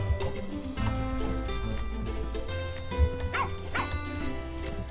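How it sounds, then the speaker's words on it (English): In the farming game Plantera, small dogs give repeated yipping barks over steady background music, with a couple of distinct bark bursts near the end, clear and mid-level. "These dogs are doing a good job,"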